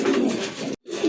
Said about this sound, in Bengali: খুবই সুন্দর একটা নট কবুতর